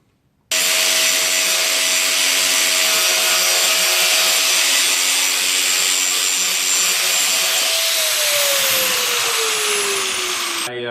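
A power grinder runs continuously on a metal plate for a Chevelle sway bar bracket, a loud, steady close-up whine that drops slightly in pitch near the end before stopping.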